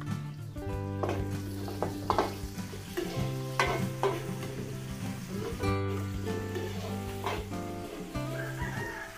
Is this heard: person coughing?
no